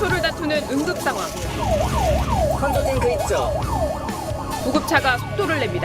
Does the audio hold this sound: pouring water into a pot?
no